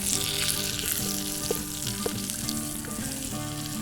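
Pork browns in a pot over a fire in a snowy winter forest, a loud, continuous sizzle and crackle up close with occasional soft clinks and stirs.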